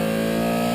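Porsche 917K race car engine, a loud sustained high-revving roar with strong harmonic tones, held steady through a very short burst.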